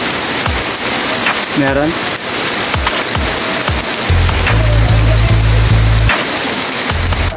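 Heavy rain pours steadily on a mountain work site, a continuous loud wash of falling water, with people talking briefly over it.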